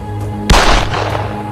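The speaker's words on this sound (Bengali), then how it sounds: "চালা গুলি।" Single gunshot effect in a drama scene: one loud, sharp bang with a short rumbling tail over a steady background hum, no speech.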